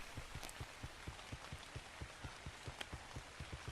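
Rain falling in the video game Ark Survival Ascended on the Ragnarok map, a soft continuous hiss with regular low dull thumps repeating steadily, quiet throughout.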